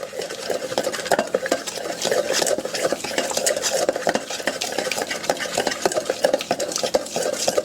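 Honey sriracha sauce being mixed in a bowl with a utensil, producing continuous close scraping and clicking with dense rapid stirring strokes throughout and no talking.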